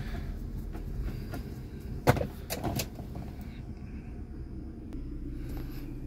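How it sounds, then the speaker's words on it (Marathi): A second-hand car's engine starts with a brief loud crank and catch, then settles into a steady low idle rumble that runs on alone, fairly close. "गाडी स्टार्ट केली"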